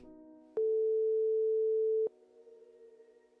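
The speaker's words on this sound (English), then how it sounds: "Beeps. Followed by a rustling sound and complete silence." Phone beep after dialing a home number in the horror video game Tiny Bunny, a single loud steady electronic tone lasting about a second and a half, with a quiet hum before and after.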